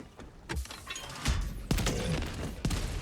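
In the video game Helldivers 2, a rocket sentry fires at a terminid, producing a string of sharp, booming blasts at uneven intervals over a continuous rumbling battle background.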